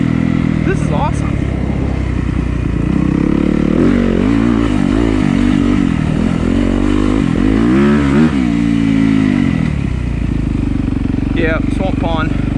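Yamaha YZ250FX dirt bike engine on a trail ride, a close, continuous buzzing four-stroke note rising and falling through revs, with wind noise and a rider's voice over it.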